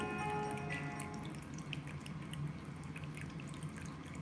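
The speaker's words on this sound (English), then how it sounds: "Water noise. Too loud?" Water trickles and drips steadily, a soft continuous flow like a running tap, fairly quiet with no voices.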